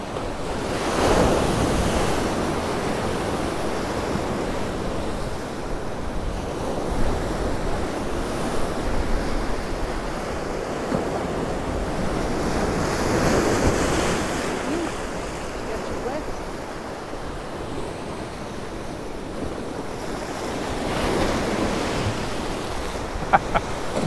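Rough sea waves surging and breaking along the shore at Ciudad Jardín in Palma de Mallorca, a continuous heavy roar of surf with swelling crashes, mixed with gusty wind buffeting the microphone.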